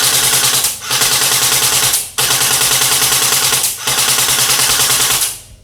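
A Double Bell AKM airsoft rifle fires on full auto from a 7.4 volt battery: three loud, close bursts of rapid buzzing shots, separated by brief pauses, with no talking.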